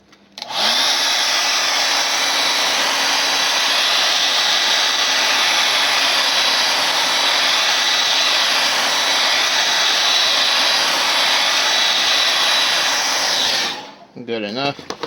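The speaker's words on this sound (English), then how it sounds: "Let's go ahead and blow dry this and try to get it." A hair dryer blasts steadily for about thirteen seconds, drying a spray-painted canvas, loud and close with a constant airy roar before clicking off.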